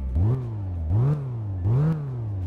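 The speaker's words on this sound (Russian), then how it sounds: "Ну-ка, давайте погазуем." Car engine in the My Garage video game revved three times in a steady rhythm, each rev rising in pitch and then falling back to a low idle hum, loud and close with no talk.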